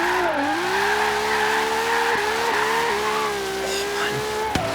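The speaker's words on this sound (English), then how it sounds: "Oh man, sound of this engine." A LaFerrari drifts downhill in the racing game Forza Horizon 3, its engine a loud, continuous howl whose pitch dips and climbs with gear changes, with tire squeal mixed in and no talking.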